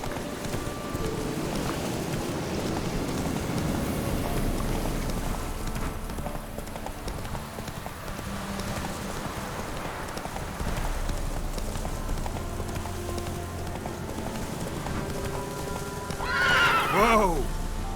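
Roach, a horse in The Witcher 3, gallops with steady clip-clop hooves under game ambience, then gives a loud neigh near the end.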